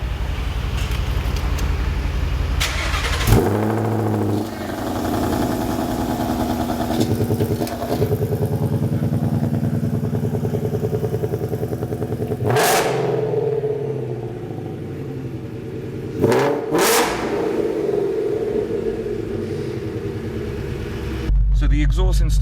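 An 825 HP Sutton Mustang fitted with an upgraded exhaust is started and revved in Monaco, roaring loud and close with deep rumbling idle broken by several sharp blips of the throttle, while people talk over it.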